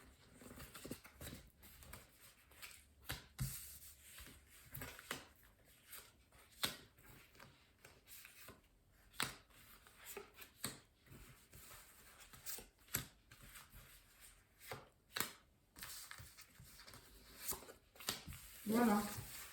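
Tarot cards being laid out one by one for a nine-card spread, soft, faint taps and slides in an irregular rhythm, with quiet talking in places.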